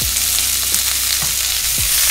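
Tofu being stir-fried with cumin sizzles in a hot pan with a dense, constant hiss, punctuated by soft spatula scrapes and low knocks as it is tossed.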